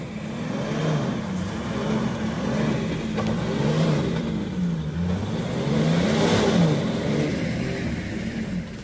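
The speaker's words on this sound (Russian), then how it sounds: "Заводим патрола патролом." A Nissan Patrol's engine being started by towing it with another Patrol, with a steady low engine drone and rising revs rumbling throughout, close and continuous, with no speech.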